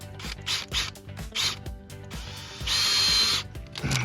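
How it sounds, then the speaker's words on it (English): A power drill whirs in short bursts, then runs in one longer steady stretch, with mechanical clicking between, close and fairly loud. "I'll finish drilling this hole out"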